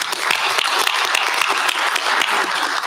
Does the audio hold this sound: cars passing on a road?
no